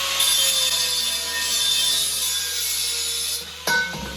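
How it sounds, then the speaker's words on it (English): Metal stock being cut for a homemade 20 ft Christmas tree frame in a yard, a loud continuous rasping cut with a high ringing edge, ending abruptly followed by a brief knock and clatter. "So now I'm gonna cut my piece of metal that is gonna fit inside the smaller one"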